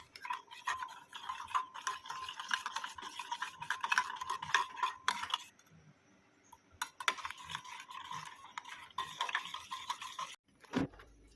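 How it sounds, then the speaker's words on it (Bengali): A spoon stirs coffee and sugar with hot water in a cup, clinking rapidly and steadily against the sides. The scraping goes on for several seconds, breaks off briefly, then resumes, and ends with a single knock. "তারপরে আমি সে দুটোকে ভালো করে মিক্সড করে নিচ্ছি"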